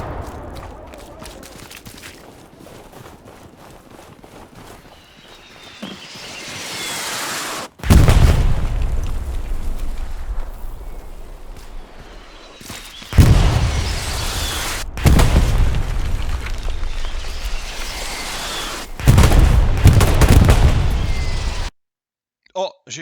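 Anti-tank gun fire in the World War II game Hell Let Loose: several heavy booming blasts, each a sudden loud low thump with a rolling tail, spaced a few seconds apart over ambient battlefield noise.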